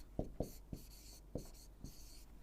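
A pen writes an answer by hand in quick, scratchy strokes, about six separate short scrapes in an irregular rhythm, close and quiet with no talking.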